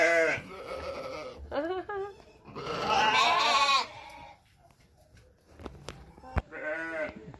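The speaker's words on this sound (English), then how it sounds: "These cute little fellas. Fuzzy little fellas. Different kinds of goats." Several goats of different breeds bleat on a farm in a few short, nearby calls with quiet gaps between them, and someone talks in between.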